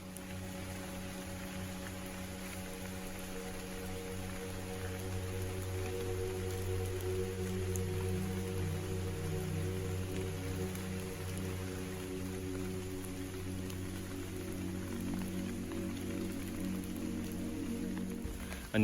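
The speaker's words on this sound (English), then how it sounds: "Rain's starting to come down pretty good." Steady rain comes down on a forest canopy along the Mountain to Sea Trail at Falls Lake, North Carolina, a dense continuous patter of drops on leaves that holds level and fairly loud throughout, with no talking.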